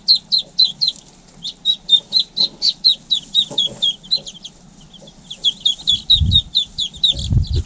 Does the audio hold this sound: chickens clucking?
yes